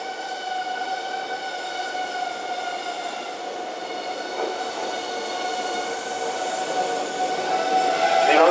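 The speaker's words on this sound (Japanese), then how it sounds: "2番線に特急両毛38号浅草行きが参ります。" A Tobu Ryomo limited express, 200 series, pulls into Hanyu station with a steady rolling rumble and a high, sustained wheel squeal, swelling slightly louder toward the end.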